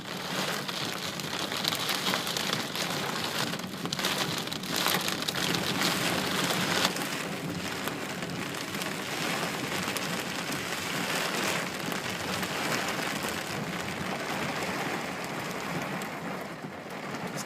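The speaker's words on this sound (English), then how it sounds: "we've never seen rain like this before." Heavy rain pours down steadily during the 2013 Colorado flooding, a dense hiss of drops drumming on surfaces, continuous and close with no voices.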